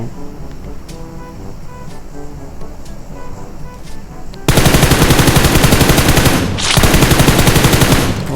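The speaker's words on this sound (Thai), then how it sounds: "ผมจะรอให้ชัวร์ก่อนผมค่อยยิงนะ ถ้ายิงแล้วต้องน็อกให้ได้" Game gunfire in PUBG Mobile erupts after about four seconds of quieter ambience: a loud, dense, continuous burst of automatic shots with one brief pause before it carries on to the end.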